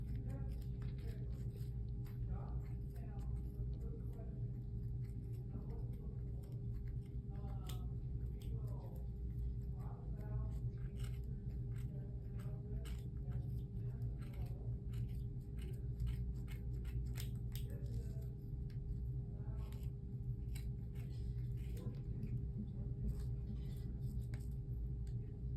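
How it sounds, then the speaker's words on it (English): Scissors snipping through yarn wound on a pom pom maker, cutting straight down the middle; a run of small, faint crisp snips sits over a steady low background hum. "So we're gonna do the same exact thing, cut straight down the middle."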